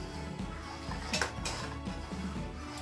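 A utensil stirs thickening Manchurian gravy with corn starch in a pan, giving repeated soft scraping and clinking against the metal in a steady rhythm. A brief louder clank comes near the middle, and no one speaks.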